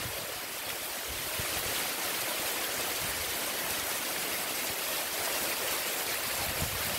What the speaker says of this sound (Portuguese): Chuva boa aqui na comunidade Riacho da Cozinha, município de Vaso. A primeira do ano.